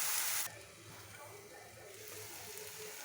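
Garlic paste sizzles gently in hot oil in a pan while cooking a palak paneer masala, a soft steady frying hiss after a brief louder burst at the start.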